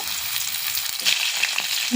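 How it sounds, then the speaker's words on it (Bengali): Steady hiss and crackle of potatoes frying in hot oil, close and continuous, with small pops scattered through. "এই দেখুন আমার আলুগুলো ভালো করে লাল লাল করে ভাজা হয়ে গেছে"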